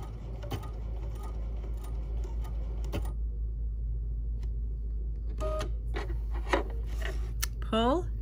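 Threads on a crystal-embellished sewn pendant are trimmed with scissors, giving a few quick snips at close range over a steady low hum, with a soft voice rising near the end.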